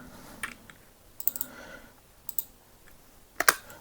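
Keys pressed on a computer keyboard, including a Ctrl+Z shortcut, heard as a few sharp, close clicks in short irregular bursts against quiet background.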